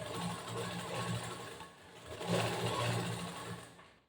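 A sewing machine runs steadily, stitching a second line along the turned-over front of a cross-cut blouse piece, its motor whirring continuously at close range with a slight dip midway before trailing off.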